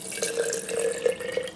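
Room-temperature tap water is poured onto a flour sourdough starter, a close, bubbling trickle with a steady gurgling tone and small splashes throughout.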